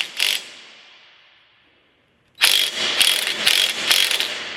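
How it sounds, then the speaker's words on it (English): A 3/8 inch impact wrench works at a nut, with a short opening burst followed by a longer run of loud, rapid rattling hammer blows. "We'll see if the 3/8 impact has enough."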